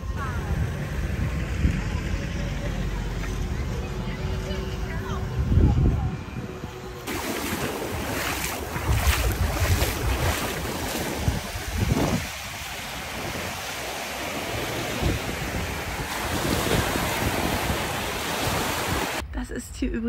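Waves of the Black Sea break along the shore at Nessebar, a steady broad surf roar with wind buffeting the microphone throughout.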